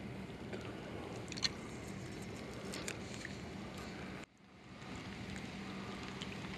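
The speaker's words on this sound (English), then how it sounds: "it's starting to rain" Rain begins falling during a float-fishing outing for bluegills and crappie, a faint, steady patter spread across the clip with a brief break near the end.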